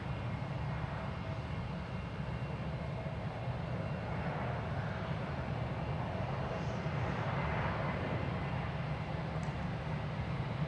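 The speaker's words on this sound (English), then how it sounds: "36 right, clear for takeoff, American 28." A 19-year-old American Airlines Airbus A319 takes off from runway 36 right at DFW Airport, its jet engines producing a steady, loud, broadband roar that swells slightly and holds throughout, heard from the spotting position with no speech.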